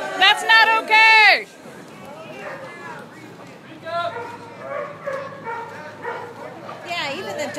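A dog barks at an outdoor political rally in Medford: a burst of loud, high yipping barks up close at the start, then crowd murmur and voices carry on for the rest.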